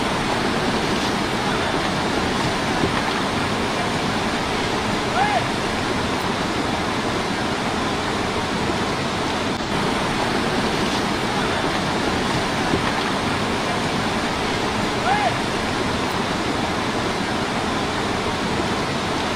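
Monsoon floodwater rushes in a swollen stream at Tapkeshwar in Haridwar, a loud, steady, unbroken roar that runs throughout with no voices.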